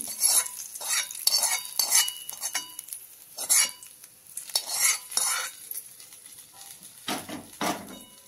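A spoon stirs and mixes a fried tempering into mashed eggplant bharit in a pan, giving irregular scraping and clinking strokes with short pauses, close and fairly quiet.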